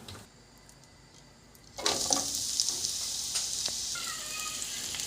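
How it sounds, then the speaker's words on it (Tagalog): Two sunny side up eggs hit a hot pan and break into a loud, steady sizzle after a quiet start, frying close by with no talking. "nagluto tayo ng sunny side up na egg"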